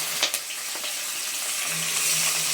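Chicken frying in a pan with garlic for a Mangalore-style chicken dish, a steady broad sizzle throughout with a couple of brief stirring clicks near the start.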